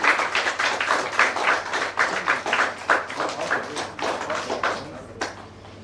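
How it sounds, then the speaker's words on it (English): Applause for the winning bank team at a banking quiz semi-final, a dense round of close hand clapping that surges and pulses for several seconds, then thins out and fades. "A huge round of applause for the winning team."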